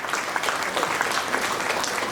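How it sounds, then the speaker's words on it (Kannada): An audience at a women's achievement felicitation event breaks into dense, steady applause, loud and continuous throughout with no pauses. "ಎಲ್ಲರೂ ಕೂಡ ಇನ್ನೊಂದ್ಸರಿ ಜೋರ ಚಪ್ಪಾಳೆ ತಟ್ಬಿಡಿ"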